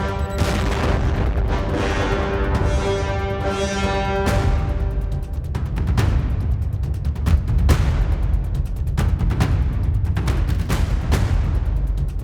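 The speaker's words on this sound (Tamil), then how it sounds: "அப்பகுதியில் குண்டு வெடித்து கதவுகள் ஜன்னல்கள் உடைந்து சுக்கு நூறாகி சிதறி போயின" Repeated heavy booms and crashing impacts from a bomb attack in Ukraine shatter doors and windows, loud and dense, with a ringing musical tone early on and no speech.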